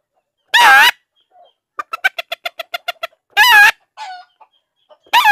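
A caged red junglefowl sounds off nearby: loud harmonic squawks alternate with a fast run of about ten sharp clucks, then another squawk, a few softer notes and a final squawk.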